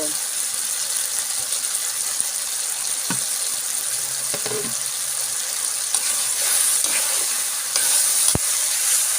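Potatoes are fried with ground mustard paste for a stem-greens dish, giving a steady, hissing sizzle throughout. A few soft spoon clicks and scrapes sit beneath it, including one sharp tap near the end.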